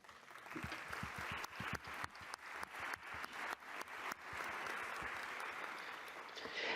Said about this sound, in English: what you all deserve is an applause